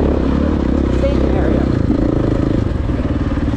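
A 2012 KTM 500 dirt bike engine drones steadily while being ridden through an off-highway vehicle area, a loud mid-pitched hum with rattling clatter and slight rises in revs, close and continuous throughout.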